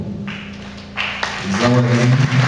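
Applause from the audience at a graduation ceremony in Jacmel, Haiti, starts sparse and builds into steady, fairly loud clapping over about two seconds, with some voices mixed in.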